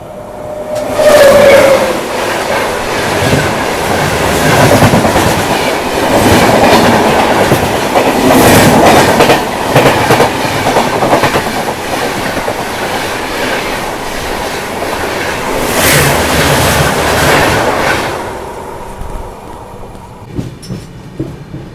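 The Katra–Mumbai Swaraj Express runs along the rails with a loud, continuous rumble and rattle, rhythmic clickety-clack, and a brief wheel squeal early on. It carries on for about twenty seconds, then fades as it passes. No one speaks.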